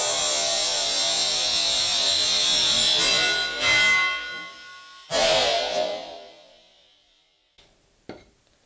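An 8 mm glass drill bit bores into a very hard stone slab with a harsh, high, grinding whine for several seconds, then a couple of short bursts before it fades out.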